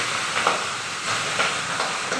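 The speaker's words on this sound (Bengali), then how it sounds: "তেল আমার গরম হয়ে গিয়েছে, মাছটা এখন দিয়ে দিব।" Aar fish frying in hot oil makes a steady hiss with a few brief crackling bursts rising and falling at a moderate, close level, with no speech.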